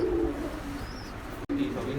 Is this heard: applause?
no